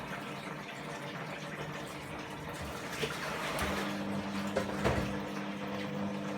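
A Fagor FUS 6116 IT washing machine with an earth leak fault pumps out first-rinse water with a steady whirring drone and gushing flow, rising slightly partway through, with no talking.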